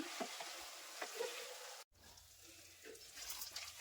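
Mutton fries in a pan with a faint, steady sizzle and light stirring, broken by a brief cut of silence partway through.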